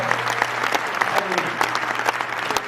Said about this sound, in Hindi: एक बार तालियां बजा के थोड़ा माहौल